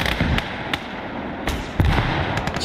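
Incendiary artillery shells strike a position in the WWII game Gates of Hell, several sharp bursts and crackling thumps scattered over a dense, continuous rumble of battle noise.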